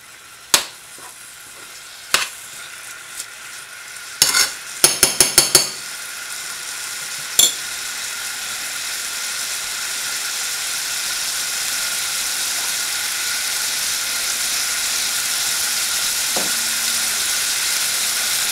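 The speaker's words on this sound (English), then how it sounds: "You can hear the oil start frying already." Several sharp clinks and knocks of a utensil against a pan, then a steady close hiss of oil frying that holds evenly to the end.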